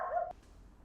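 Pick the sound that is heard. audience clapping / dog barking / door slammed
dog barking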